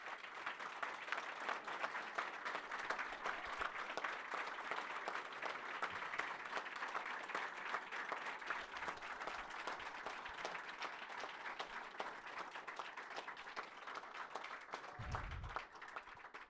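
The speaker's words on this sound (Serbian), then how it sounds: "molim vas jedan aplauz veliki za njega" Sustained audience applause at a live concert at Too Loud Fest 2021, steady dense clapping from a large crowd throughout, with a brief low thump near the end.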